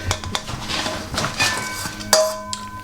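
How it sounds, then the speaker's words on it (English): A baking dish for a leftover-bread breakfast casserole is set down and handled on a counter, giving a few light clinks and taps with one sharper ringing knock near the end, close and alone. "So I'm going to take my baking dish."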